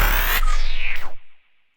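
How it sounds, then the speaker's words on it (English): Short homemade sound effect for radio imaging, a bright synthetic whoosh with sweeping, falling tones and a fluttering tremolo that decays quickly into a faint ringing tail, heard alone. "that's how you make a sound effect"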